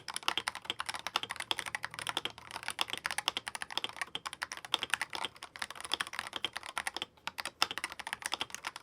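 Fast, steady typing on a 75% magnetic keyboard, a dense run of crisp, close keystrokes with brief pauses and no talk.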